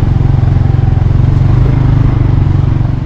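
A motorcycle engine idles close and loud in a steady throbbing rumble while it is parked, with no talk.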